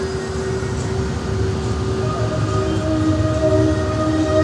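A roller coaster train runs at Blackpool Pleasure Beach, giving a steady, continuous mechanical rumble with a thin sustained whine over it. It stays moderately loud and even throughout, with no voices.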